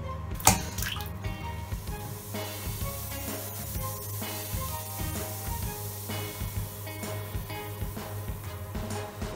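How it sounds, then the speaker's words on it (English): A hot water tap runs steadily into a bathtub, a continuous rushing splash that stays close and fairly loud for several seconds, with no voices. "you would run the hot water tap"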